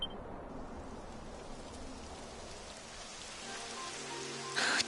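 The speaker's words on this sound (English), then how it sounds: "It would have to go and start raining, wouldn't it?" Rain starting in Dragon Quest XI: a steady, soft hiss of falling rain on surfaces, even and fairly quiet throughout, with a brief sharper burst at the very end.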